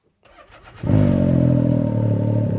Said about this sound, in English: as soon as I fire up this side-by-side, I know it's got a big sound